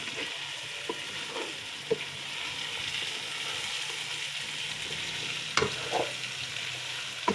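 Eggs and potatoes fry in a pan, making a constant sizzle broken by a few sharp clinks and scrapes of a utensil stirring the food, with no talking.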